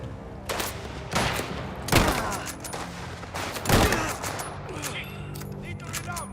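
Bursts of video game gunfire in a mafia shooter, several loud volleys of rapid shots spaced a second or two apart, with crackling echoes and a steady game backdrop between them.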